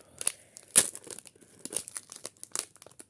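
Crinkly plastic packaging being opened, a dense run of close, crackling crinkles and brief tearing bursts with sharp peaks, alone and without talk.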